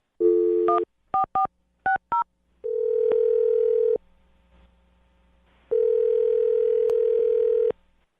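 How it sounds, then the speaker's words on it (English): Phone keypad beeps sound in quick bursts of dual tones, broken by steady stretches of dial and ringback tone, clear and close with no talking. "I'm going to dial his phone number right now."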